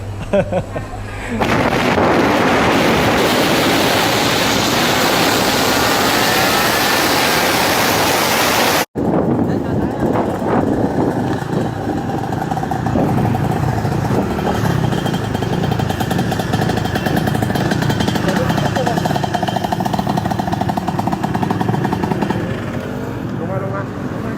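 A Yamaha Mio scooter with a KR head is ridden on a short test ride, its engine droning loud and constant under heavy wind buffeting, with a brief cut partway through and some voices mixed in.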